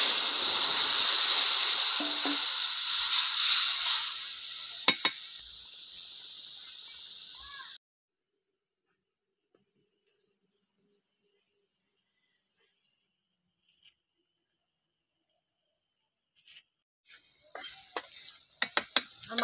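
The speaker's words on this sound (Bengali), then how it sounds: "এবার মাছের ঝোলটা ঢেলে দেবো।" Fish curry broth hits a hot pan for a Bengali bata fish curry with green chilli and ginger paste, giving a loud, steady sizzle for several seconds that cuts off abruptly, followed by long silence and faint clatter near the end.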